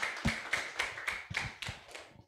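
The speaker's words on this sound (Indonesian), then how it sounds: "beri tepuk tangan untuk kelompok 2" A physics class claps for presenting group 2 in slow, unison rhythm, about eight distinct claps spaced evenly over two seconds, faint and somewhat distant.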